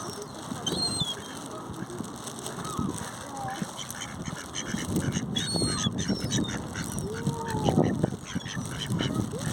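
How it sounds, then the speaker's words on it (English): Ducks and geese call in a busy outdoor spot where birds are being fed, with honks and quacks scattered over steady crowd and ambient noise, some calls close and others farther off. "There's a couple of ducks around as well."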